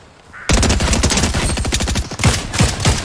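Rapid automatic gunfire in a video game erupts after a brief quiet start, loud and sustained in dense bursts, with a few heavier single shots punching through near the end.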